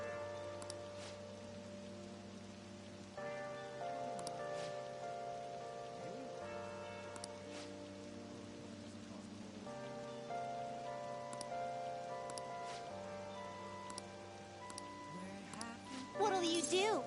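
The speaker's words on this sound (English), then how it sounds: "When's the rain gonna let up?" Rain patters steadily in a Persona 5 game scene, a soft continuous hiss running beneath sustained music with shifting chords and a bright chime near the end.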